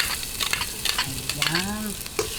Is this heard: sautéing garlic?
yes